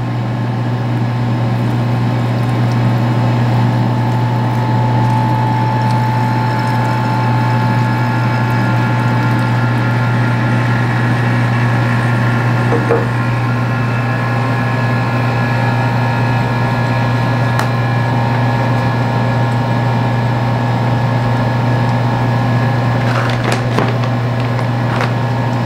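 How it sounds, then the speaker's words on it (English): A laboratory vacuum pump runs steadily during Buchner funnel filtration through an activated charcoal layer, giving a loud, continuous motor hum with a strong low drone that holds without pause, plus a few faint clinks near the end. "Start my vacuum pump."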